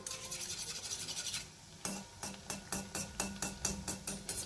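Wheat-flour and jaggery kapnya frying in hot oil, with a soft bubbling sizzle and repeated rhythmic scraping strokes of a utensil along the pan, fairly quiet and close, with no talking.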